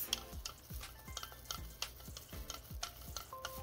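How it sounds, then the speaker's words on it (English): A homemade lip gloss mixture containing parsley, rosemary, basil, thyme, cinnamon, horsetail, lavender and lemongrass is being stirred, giving a steady series of soft scraping, clicking strokes close up, with no speech. "And then we're going to stir that."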